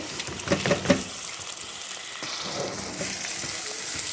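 Raisins sautéed with rice in a pan, giving a steady close-up sizzle with a few scraping stirring knocks near the start.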